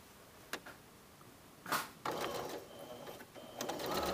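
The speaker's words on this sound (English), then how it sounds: "So let's sew it." A sewing machine stitches velvet in short runs, a few isolated needle thumps first, then a steadier mechanical whir and clatter that continues to the end, close and fairly quiet.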